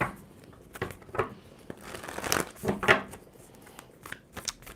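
Tarot cards being shuffled by hand, a series of quick papery riffles and soft slaps in irregular bursts, fairly close and alone.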